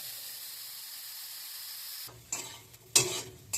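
Soybean chunks seasoned with salt and turmeric fry in a pan, a soft steady hiss at first, then scraping stirs and sharp bursts of sizzle close by.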